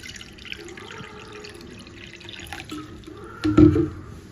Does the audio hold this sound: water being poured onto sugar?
yes